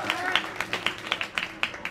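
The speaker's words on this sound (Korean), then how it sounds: "큰 박수 부탁드립니다" Audience members clap in a steady rhythm at a 2015 Taekkyeon Battle martial arts match between Yongin University and Myeongnyun Seungbusa teams, about a dozen distinct, evenly spaced claps at moderate distance.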